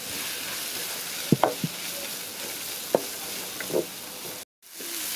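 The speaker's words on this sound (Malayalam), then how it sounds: "ഇപ്പോൾ ഇതിലോട്ട് ഞാനൊരു 3 സവാള അരിഞ്ഞത് ചേർക്കുന്നുണ്ട്." Chopped onions, three of them, fry and sizzle in a pan while being stirred, a steady hiss under occasional spoon knocks and scrapes, with a brief dropout near the end.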